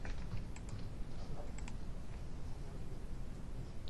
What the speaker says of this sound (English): Just press 1 on the keyboard.